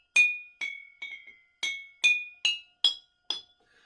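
Glass bottles tuned with differing amounts of water are tapped one at a time, giving eight clear ringing clinks at varied pitches with short decays, close and alone without talk.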